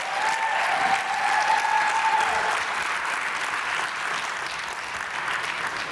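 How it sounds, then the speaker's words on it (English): An audience at a leadership event's opening session applauds, a dense, steady clatter of many hands clapping that carries on loud and slowly eases, with a faint tone lingering near the start. "Let's give him another round of applause."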